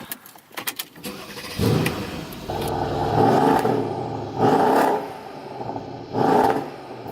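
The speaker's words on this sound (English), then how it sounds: "Then we'll go ahead and take the key and start it up." Keys rattle, then the twin-turbo engine of a Mercedes CL 63 AMG cranks and fires up, settling into an idle broken by several rising revs.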